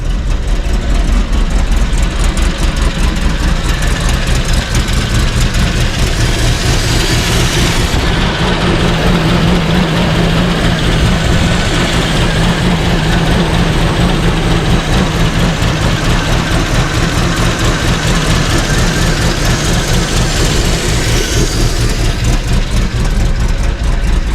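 A swapped 5.3 V8 with an aggressive cam idles steadily and loudly up close, with a lumpy, rhythmic low rumble throughout and no talking.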